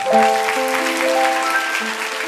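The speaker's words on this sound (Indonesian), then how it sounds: "Kasih tepuk tangan untuk Tuhan." A church congregation applauds during a sermon, a bright continuous wash of clapping mixed with sustained keyboard chords underneath.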